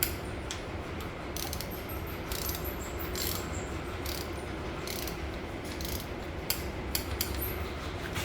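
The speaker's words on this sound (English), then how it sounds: "we are going to torque them to 18 foot-pounds" A torque wrench tightening Loctited 5/16 bolts to 18 foot-pounds during Cadillac 500 short block assembly, giving steady ratcheting clicks over continuous workshop noise, with a few sharper clicks near the end.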